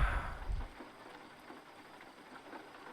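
Rain in the American Truck Simulator game at night, a faint steady hiss that follows a brief louder rumble at the start and stays low and even throughout.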